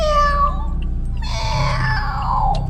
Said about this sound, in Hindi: जैसे ही ये जंगल में प्रवेश करते हैं तभी एक बिल्ली अचानक से आती है